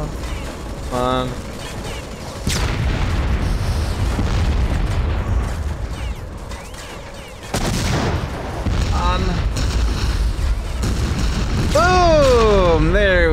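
Rocket launcher blasts striking targets in the video game BloodRayne, heavy booms and bursts of gunfire-like impacts layered over game sound and music, with a voice talking through much of it.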